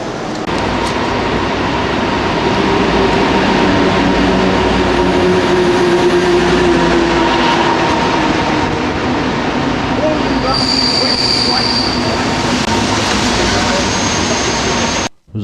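A train pulls into Dresden Neustadt station with a loud, close, steady rumble, squealing wheels and a high brake whine toward the end before the noise cuts off abruptly.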